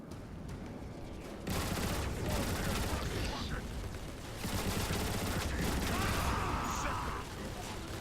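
Sustained turret fire from Transformers: War for Cybertron roars in two long loud stretches, a dense mechanical clatter with voices speaking over it.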